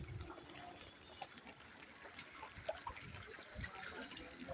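Floodwater covering a flooded road beside a submerged field, with a soft, steady trickling and sloshing of water throughout, faint and continuous with small splashes, no talk.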